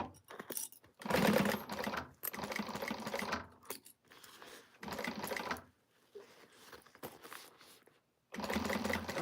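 A sewing machine stitches a new Zodiac Group bag in several close runs of rapid mechanical chatter, starting and stopping with short quiet gaps between them.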